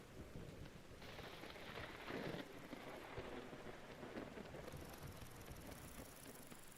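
Steady rain in the Vintage Story video game, a continuous loud hiss of downpour with a brief heavier swell partway through and faint rumbling beneath, no voices.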